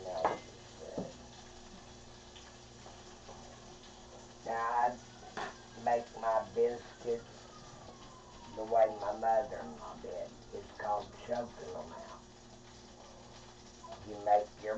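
Biscuit dough stirred around in melted butter in a pan, soft scraping and light sizzle heard faintly beneath someone talking.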